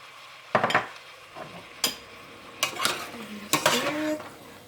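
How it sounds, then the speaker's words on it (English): A spoon stirs pork stew seasoned with salt and black pepper in a pot, a handful of distinct clinks and scrapes against the metal spaced apart over a faint simmering background. "Stir it."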